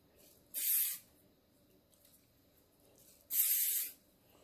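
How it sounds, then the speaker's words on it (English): Two short hissing bursts from an aerosol protector spray onto a Louis Vuitton Montsouris backpack, each about half a second, separated by a quiet pause, close to the listener. "And then I'm just gonna spray it here in the front."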